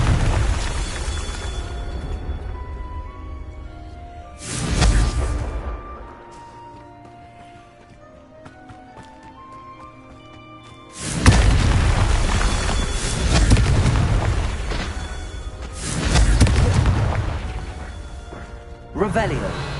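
Repeated Confringo fire spells from the Hogwarts Legacy video game explode in loud crashing bursts, separated by quieter stretches of tonal game music and chimes, with game dialogue woven in.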